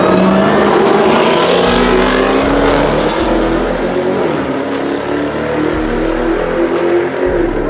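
A family car races a Camaro, engines roaring loudly and steadily throughout with revving pulses and a passing-car sweep near the end, no speech.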